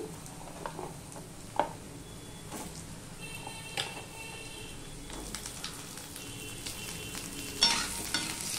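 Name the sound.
potatoes added to frying browned onions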